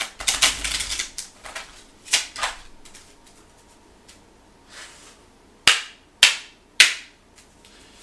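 A deck of Kipper cards is shuffled and drawn, giving riffling flutters followed by three sharp, loud snaps as cards are slapped down, close up and with no talking.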